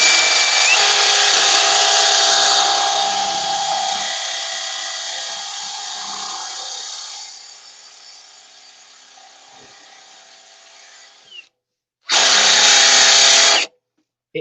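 A power drill bores into wood with a Forstner bit, a loud steady whine that fades over several seconds and stops, then a second short burst of drilling near the end.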